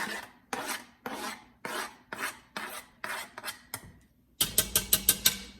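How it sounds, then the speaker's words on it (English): Minced onions being scraped from a cutting board into a pot for chicken white chili: about eight steady rasping strokes, close and even, then a quick run of sharper scrapes and taps. "I'm simply going to scrape them in from my cutting board."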